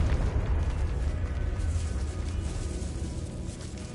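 A Confringo fire spell explodes in Hogwarts Legacy, leaving a dense, sustained rumbling roar of blast and burning debris that fills the scene and slowly eases.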